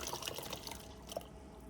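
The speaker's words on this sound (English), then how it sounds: "So we pour the same tea" Breuss kidney tea being poured, a soft, steady trickle of liquid that runs the whole time with a few faint drips and splashes, close and fairly quiet.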